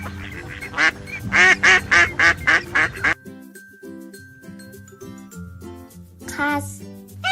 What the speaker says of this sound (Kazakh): Үйрек.